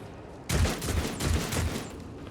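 Gunfire in the Warhammer 40,000: Rogue Trader video game, a sudden burst of rapid repeated shots lasting about a second, loud and close, then fading into a lingering noisy tail.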